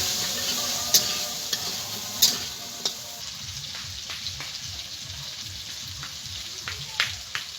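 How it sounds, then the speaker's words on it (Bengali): Potatoes with salt and turmeric fry in hot oil for a Gobindobhog rice khichuri, producing a steady close hiss with a few sharp spatters and pops early on and softer crackles later. "আলুগুলোকে আমি লাল লাল করে ভেজে নেব।"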